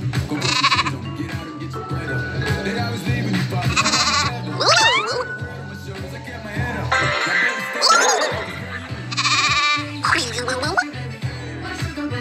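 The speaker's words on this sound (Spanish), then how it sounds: "hay unas ovejas con colores locos en esta granja" Several sheep on a farm bleat repeatedly, loud and close, the wavering cries overlapping with a busy background of music and cartoonish effects.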